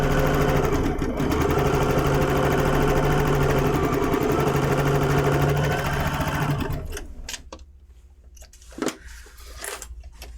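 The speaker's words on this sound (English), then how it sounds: "Bring this over and make sure that you're lined up there, and just sew this one in as well." A sewing machine stitches a quilt block in a loud, steady mechanical whir with a fast rhythmic chatter that runs continuously for several seconds, then stops, leaving quiet handling sounds and a few faint clicks.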